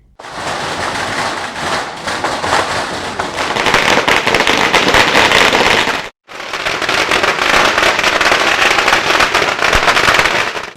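Firecrackers bursting nonstop at a political party celebration, a dense loud crackling barrage of rapid pops that fills the whole stretch, cutting out briefly before resuming just as intensely.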